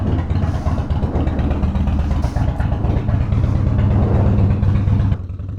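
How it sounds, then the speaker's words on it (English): Harley-Davidson motorcycle engine idling and revving up close, a loud, continuous low rumble with a choppy, throbbing beat, swelling slightly before dropping off at the end. "so this bike is so freaking loud that I did not really want it underneath our neighbors"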